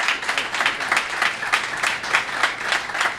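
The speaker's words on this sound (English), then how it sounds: "if we could give the boys one more round of applause as they take their first step towards college." A press-conference audience claps for a graduating class of El Paso Locomotive FC academy players, a steady, moderately sized round of applause with dense, even hand claps throughout.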